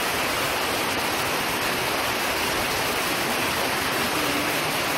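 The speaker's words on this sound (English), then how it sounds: "of course, it's raining outside." Steady rain falls outdoors, a dense, even hiss of moderate loudness that continues unbroken with no voices.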